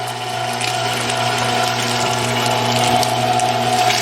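Meat Your Maker 1.5 HP electric grinder coarse-grinding deer meat, a steady close motor hum with grinding and churning texture throughout, no voices.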